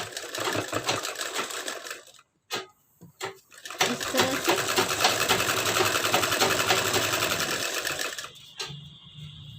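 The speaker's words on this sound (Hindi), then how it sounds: "अब हमें इसके ऊपर सिलाई लगाना है, तो इसके ऊपर एक सिलाई लगा लेते हैं इस तरह।" A sewing machine runs in loud, continuous bursts while stitching a hook strip onto an embroidered belt blouse, stopping briefly a few times before a long, steady stretch of rapid stitching.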